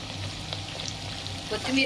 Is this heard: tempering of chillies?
yes